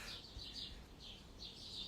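Soft bird chirps repeat in short bright phrases over a steady, hushed background, sounding like a gentle soundtrack loop.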